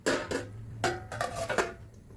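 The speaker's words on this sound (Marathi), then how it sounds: "आपण आता झाकण काढून बघूया आणि एकदा मशरूम परतून घेऊया" A pot lid comes off, then a utensil scrapes and taps several times against a pan while mushrooms are stirred, close, fairly quiet clinks in an irregular rhythm.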